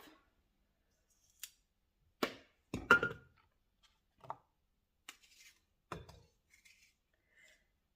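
A kitchen knife slices bruised spots off an apple, giving a handful of sparse, close, crisp cuts and clicks separated by quiet pauses.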